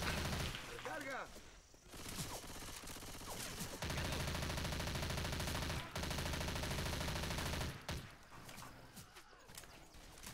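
Shotgun and dual-pistol fire in the zombie shooter Left 4 Dead 2: loud, close, repeated gunshots in clustered volleys over a busy, noisy game background.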